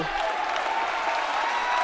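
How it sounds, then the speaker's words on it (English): A crowd at a TCNJ college basketball conference tournament game applauds steadily, with dense, continuous clapping and crowd noise under a commentator's voice. "the crowd is finally on their feet here, applauding the effort by Jordan Glover"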